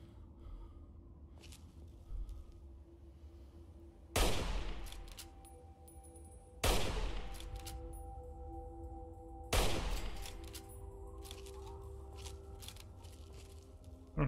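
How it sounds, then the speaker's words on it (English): Gunfire from a machine gun in Fallout 3, heard as three heavy, loud blasts spaced a few seconds apart, each one decaying into a reverberant tail over a low, steady game background hum. "Man, that thing just kind of sprays bullets everywhere and hits nothing."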